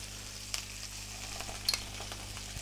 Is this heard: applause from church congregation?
no